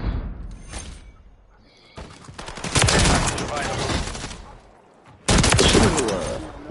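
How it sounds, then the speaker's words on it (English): Marksman rifle fire in an online shooter game: a single sharp shot, then two sustained stretches of rapid, loud gunfire separated by a quieter pause, with a voice briefly heard under the noise. "This marksman rifle ain't bad right here."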